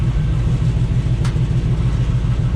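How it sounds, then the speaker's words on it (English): A Hummer engine runs steadily with a loud, constant low rumble and rattle, close and unbroken throughout. "Car's running okay, still got that loud rattling."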